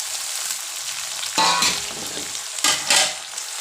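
Potatoes and eggplant go into a hot pan of frying tomato and ginger, setting off a steady sizzle broken by two louder bursts of crackling as the pieces land and are stirred.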